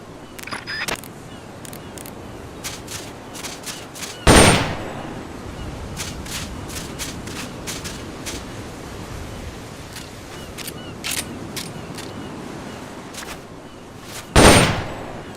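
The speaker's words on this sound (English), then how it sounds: "Ready your weapon with the R button, then press the square button to fire" Gunshots from a weapon fired in the Metal Gear Solid Peace Walker video game: two sharp, loud reports several seconds apart, with lighter clicks and ticks scattered over a quiet background.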